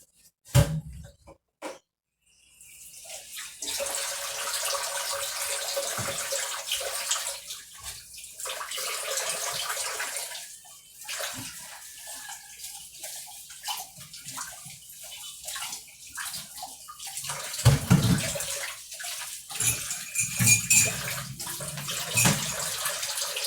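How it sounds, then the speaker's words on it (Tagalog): Dishes being washed under a running tap, with a steady stream of water splashing into a sink for most of the stretch and occasional clatters and splashes, heard up close with no talking. "Maghuhugas muna ako, ha?"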